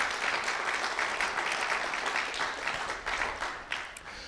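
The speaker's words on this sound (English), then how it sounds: "Can we give them a round of applause?" A church congregation breaks into warm, sustained applause, with many hands clapping steadily for a few seconds at moderate distance before tapering slightly.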